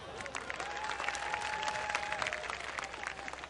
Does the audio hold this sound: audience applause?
yes